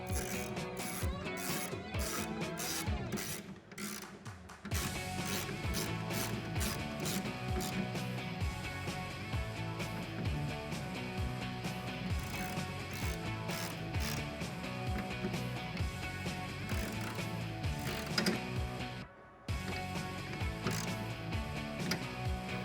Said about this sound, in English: And again, with that 5mm Allen, tighten them down